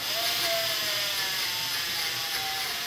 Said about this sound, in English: my drill is just about dead